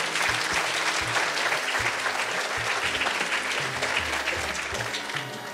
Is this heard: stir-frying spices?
no